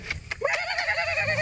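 A horse at a hill station gives a short, wavering whinny, close and fairly loud, preceded by a few brief knocks or hoof sounds.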